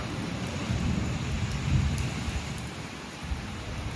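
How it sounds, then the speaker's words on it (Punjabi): Steady rain patters while low thunder rumbles and rolls through the whole stretch, fairly loud and continuous, with no voices. "ਬੱਦਲ ਗਰਜ ਦੀ ਆਵਾਜ਼ ਤੁਹਾਨੂੰ ਸੁਣਦੀ ਹੋਣੀ ਹੈ"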